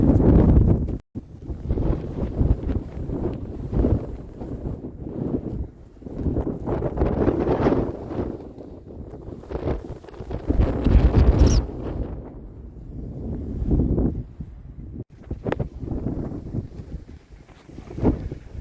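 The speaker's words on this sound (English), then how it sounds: "wind's starting to pick up again as we're starting to climb out of this depression" Strong gusty wind on a mountain pass in Chile buffets loudly and continuously, rising and falling in heavy roaring waves with brief lulls.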